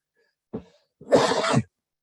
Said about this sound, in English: excuse me for my cough here.